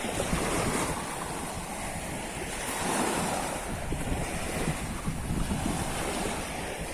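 Sea waves wash onto the shore at Çanakkale in a steady, continuous roar of surf, with gusts of wind buffeting the microphone and no voices.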